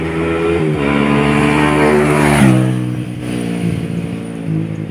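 A Yamaha NMAX motor scooter engine runs at an endurance ride in Quirino, a loud, close, buzzing drone that climbs in pitch and then eases off, with no talk over it.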